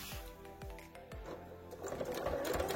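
A sewing machine stitches a cover for a Jeannette sleeve board in short bursts of rapid mechanical whirring. The running grows steadier and louder toward the end, heard up close with no voices.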